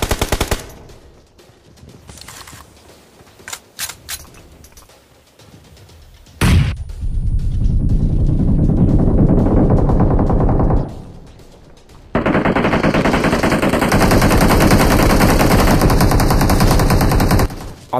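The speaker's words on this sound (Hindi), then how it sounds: "अब इधर भाई बहुत सारे फायर आ रहे थे ऑलरेडी" Rapid automatic gunfire from a mobile battle royale game, with sparse single shots early, then long loud continuous bursts of machine-gun fire that stop briefly before a second sustained barrage.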